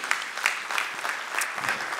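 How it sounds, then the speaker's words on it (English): A church congregation claps in a brief, moderately loud burst of applause with audible individual hand claps, steady across the short span. "applaud for that"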